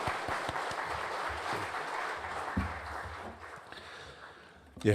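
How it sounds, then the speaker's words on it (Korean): Congregation applause after an infant baptism during a Sunday church service: a burst of clapping at the start that thins into a softer, diffuse patter in a large hall, with a low thump near the end. "우리 크게 박수 주시기 바랍니다"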